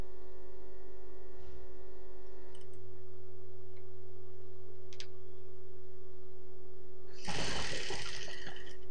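Sewing machine stitching churidar lining fabric, a steady motor hum and whir running throughout with light ticks, ending in a brief louder burst of noise near the end.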